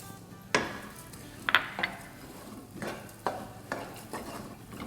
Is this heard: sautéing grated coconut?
yes